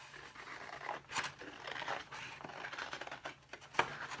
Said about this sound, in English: so I'm just going to cut this out.